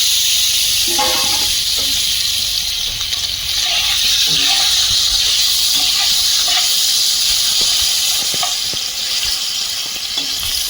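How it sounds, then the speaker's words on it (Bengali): Fish fry in oil in a kadai, producing a loud, unbroken hiss of sizzling oil close up, with faint scattered clinks and indistinct sounds beneath. "কড়াইতে তেল দিয়ে দিচ্ছি মাছগুলো ভেজে নেব"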